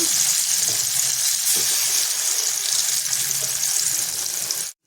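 Ghee heating in a pan for carrot kheer gives a steady, close hiss and sizzle of frying throughout, with no talking, ending in a short silence.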